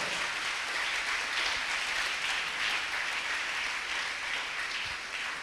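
A church congregation cheering and applauding loudly for the Lord, sustained dense clapping that holds steady and eases slightly at the close.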